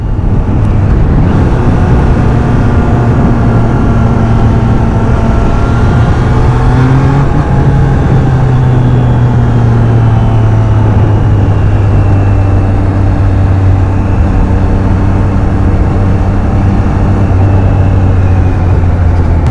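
A Triumph Trident 660 three-cylinder motorcycle rides at speed with a loud, steady engine drone, its pitch sliding up and down through gear changes and throttle shifts, heavy wind rush throughout and no voices.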